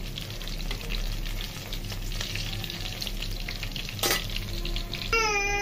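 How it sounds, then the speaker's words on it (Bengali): Food frying in a pan, a steady close sizzle with occasional stirring scrapes and one sharp clatter near the end. "ওকে অল্প অল্প করে ভেজে নিলাম।"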